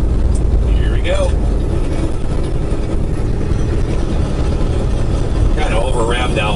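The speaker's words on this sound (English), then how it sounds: "Kind of over revved that one a little bit." A long-haul truck's engine drones loud and close, revving high and steady without a break, with a faint voice briefly audible over it near the end.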